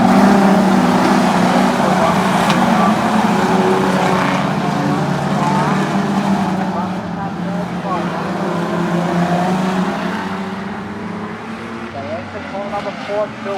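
Street stock race cars roar around a speedway in a dense, loud engine drone that fades slightly as the pack moves on, with a race commentator talking over the noise.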